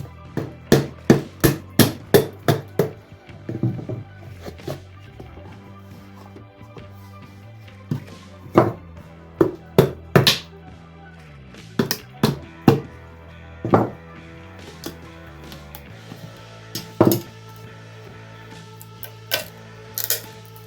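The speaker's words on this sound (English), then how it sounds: "It was the plywood that was cracking." Sharp cracks and snaps from plywood giving way during the making of a segmented wooden bowl, a quick burst of close, loud reports at first, then scattered single cracks spaced out over a low steady hum.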